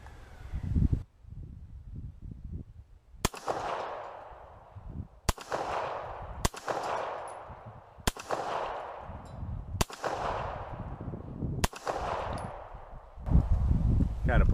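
Six sharp 9mm pistol shots at an outdoor shooting range, each a loud crack followed by a long echoing tail, fired at uneven intervals, with a person talking in between.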